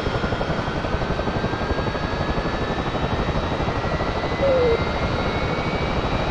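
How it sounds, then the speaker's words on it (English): A jet engine roars steadily as the throttle advances in a DCS World flight simulator, a loud continuous whine and rumble at an airfield before an attack mission, with a brief extra tone near the end and no talking. "Let's just advance our throttle"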